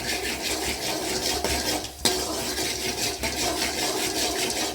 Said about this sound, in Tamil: கடலைப்பருப்பு போட்டுக்கலாம். கொஞ்சம் செவக்கிற அளவுக்கு போட்டுக்கலாம்.